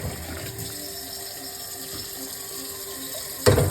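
Tap water runs steadily into a pot of beans during home cooking in a blizzard, a close continuous hissing flow with a brief louder splash near the end.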